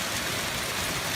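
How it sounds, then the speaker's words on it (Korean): Heavy hail pours down in a continuous, dense hiss of impacts, steady and loud throughout with no talking. "눈이 안 보일 정도로 그렇게 우박이"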